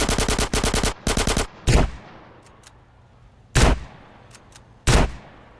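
Automatic gunfire in GTA San Andreas Definitive Edition: two quick rattling bursts open, then single loud shots ring out at spaced intervals, each fading into a brief echo.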